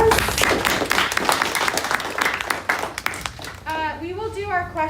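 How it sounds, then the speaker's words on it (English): A small audience at a presentation event claps to welcome a presenter, with a short burst of scattered, close hand claps that dies away after a few seconds as a voice starts speaking. "So welcome her with some applause."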